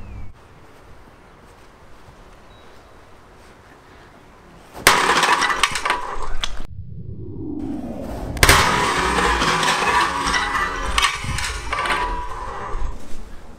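A hammer smashes through four ceramic tiles stacked directly on top of each other, giving a loud, sharp breaking crash followed by a second heavy crunching impact and scattering debris, all close to the microphone with no talk.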